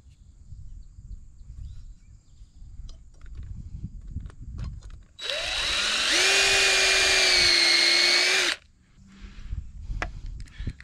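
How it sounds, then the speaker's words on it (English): A power drill whirs loudly for about three seconds as it pre-drills hard oak for screws, its pitch rising slightly, with quiet rustling before and after. "Pre-drilling the oak, because otherwise you'll just bust these screws right off."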